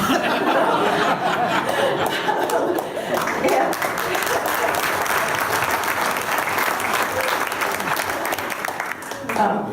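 An audience at a political party's action dinner applauds in sustained, dense clapping, mixed with scattered chuckles and some talking, lasting throughout before tapering slightly.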